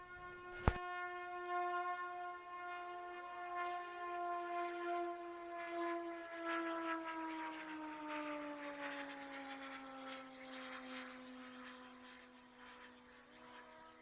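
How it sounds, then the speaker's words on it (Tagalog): A helicopter passes overhead with a faint, distant droning hum that slowly sinks in pitch as it moves away, after a single sharp click near the start. "May dumaang helicopter mga ka-viewers"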